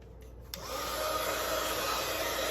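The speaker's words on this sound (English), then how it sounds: "And I'm going to heat up my heat tool." A heat tool for heat embossing switches on after a brief click, then blows a loud, steady hair-dryer-like whoosh of hot air that continues evenly, with no talking.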